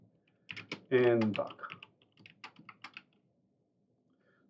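Computer keyboard keys tapped in short clicky bursts during a coding lesson, with a person talking over much of the typing.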